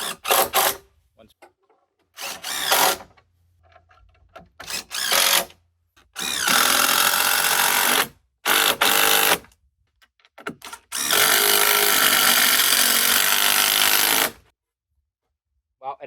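A power drill drives screws to fasten joist hangers onto timber joists at an off-grid Arctic cabin, with several loud, close bursts of whirring separated by short pauses and quieter handling noises.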